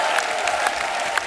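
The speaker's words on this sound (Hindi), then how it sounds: "एक बार जोरदार तालियां हो जाए सन्नी पाजी और अमीषा के लिए।" Studio audience applause for Sunny Deol and Ameesha on a comedy show, a dense, steady wash of clapping with a few sharper bursts, filling the short stretch at even loudness.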